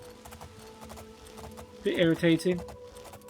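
Horse hooves clip-clop steadily at a moderate distance while riding in the Oblivion video game, a soft repeating patter heard under a voice talking.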